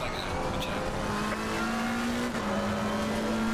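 A race car laps the Misano circuit in Assetto Corsa Competizione, its engine droning at steady high revs with a rising tone as it accelerates toward the final turn, heard close and continuous.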